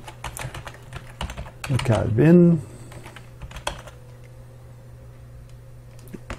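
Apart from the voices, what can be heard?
typing on a French computer keyboard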